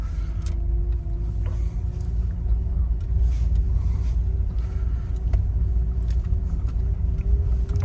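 Toyota Corolla E150 driving over an uneven road after a steering rack repair, with a steady low engine and road rumble and no knocking, heard from inside the cabin, under some talk.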